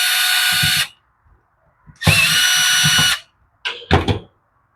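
A power tool whirs loudly in two sustained bursts, then two short zips, backing out the carburetor backing plate screws on a Poulan 3314 chainsaw, with brief clicks and silence between.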